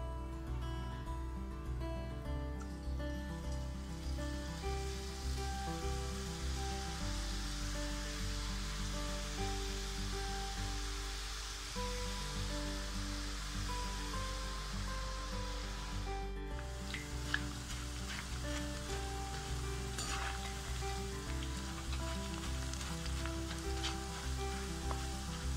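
Sev batter pressed through a sev maker into hot oil for sweet Navratri madhura sev, giving a continuous loud sizzling hiss of frying that holds steady throughout.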